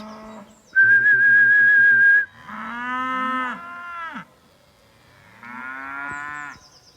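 A person gives a long, steady whistle to call cattle on a grazing pasture, and they answer with two drawn-out moos, one after another, in a quiet open setting.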